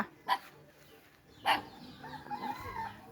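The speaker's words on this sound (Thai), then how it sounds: "อย่ามาเห่าเด้อ" A dog gives two sharp barks about a second apart in a rural Thai yard near a durian-and-egg errand, followed by softer barking and clucking-like sounds at moderate distance.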